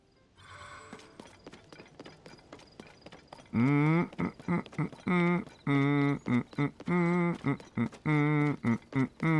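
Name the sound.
horse hooves clip-clop, from video game Zelda: Tears of the Kingdom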